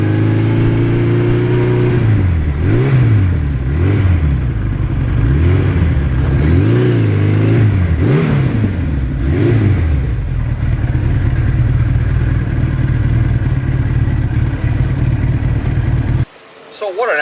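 A 1982 Suzuki GS1100E motorcycle engine rises and falls through several revs while riding, loud and steady throughout, then cuts off abruptly near the end; faint voice traces may sit underneath.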